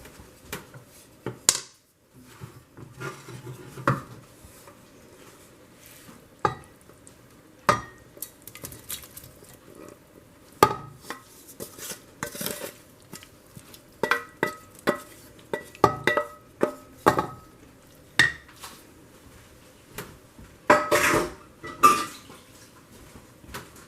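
Bell peppers dropped into a slow cooker holding Hunt's pasta sauce, with repeated clinks, knocks and wet plops of utensils and pieces against the pot in an uneven series of close bursts.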